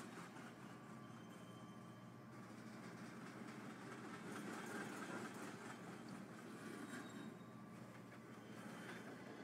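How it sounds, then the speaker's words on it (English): A stack train rolls steadily along the rails in Train Simulator 2021, the Union Pacific run toward Topeka giving a continuous rumble with faint clickety-clack of wheels, no talk over it. "we are running this stack train"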